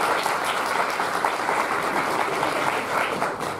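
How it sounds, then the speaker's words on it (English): Audience applause at a talk on eating animals and the alt-right, dense and sustained clapping from a crowd filling the room at a steady level from start to finish. "please give a round of applause to them for being here"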